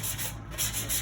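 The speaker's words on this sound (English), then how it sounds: "I'll give it a nice light sand." Light hand sanding of a wood piece for a carry-all box, short rhythmic rubbing strokes close up, with a brief pause midway and no voices.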